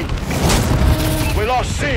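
Bombing-run explosions in Call of Duty Advanced Warfare, a Domination match on the Solar map, roll as a loud, continuous low rumble of booms with brief whistling tones layered over the battle noise.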